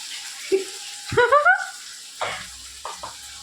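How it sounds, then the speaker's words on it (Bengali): Rice and spices frying in a pan, with short sizzling bursts and stirring noises close by, separated by quiet gaps. "মশলা পড়েছে, ওরা জ্বলছে, ওদের সরসরানি শুরু হয়েছে।"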